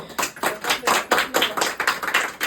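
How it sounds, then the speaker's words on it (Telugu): A small group clapping at a child's birthday celebration, a brisk run of uneven hand claps at close range, lively and continuous for a couple of seconds without talk. "చప్పట్లు."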